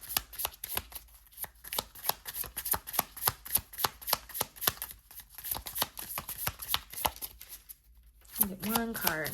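Tarot cards are shuffled over and over in quick, crisp riffling bursts with brief gaps, close up, and a voice talks near the end.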